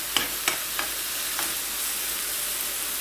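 Onion and carrot frying in a pan for a meat pie, a steady close sizzle with a few sharp scraping stirs of a utensil at the start.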